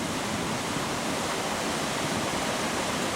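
Whitewater rapids at Nantahala Falls on the Nantahala River roar as a dense, steady wash of rushing water, loud and unbroken with no voices.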